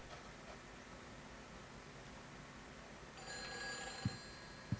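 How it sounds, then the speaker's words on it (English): A telephone rings in the video game Silent Hill 4: The Room, two short bright rings near the end over a quiet, hissing ambient hum. "Oh, phone's ringing again."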